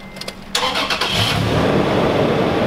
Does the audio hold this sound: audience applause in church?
no